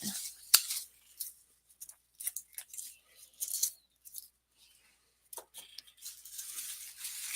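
Scissors snip through garlic stalks during garlic storage prep, giving a series of sharp, close crisp cuts scattered irregularly with pauses between them.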